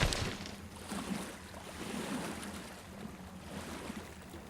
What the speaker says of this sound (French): Totemi naviguait pour la première fois et Moko retrouvait la douceur des vagues